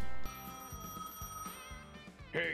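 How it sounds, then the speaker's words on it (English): A phone in the video game Gas Station Simulator rings with a bright, repeating electronic trill in several short bursts, clear and alone. "answer the phone call"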